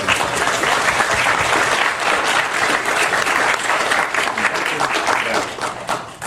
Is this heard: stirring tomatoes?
no